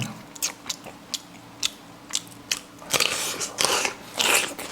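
Someone eats rice with Thai mackerel chili paste (nam prik pla tu) up close. A steady run of crunchy bites and chewing builds into denser, louder crunching toward the end, with no talking.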